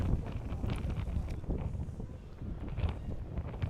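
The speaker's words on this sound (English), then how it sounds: "Big gust of wind right there" A big gust of wind buffets the microphone at an outdoor high school baseball game, steady roaring rumble with fluctuating bursts throughout, loud and close, no talking.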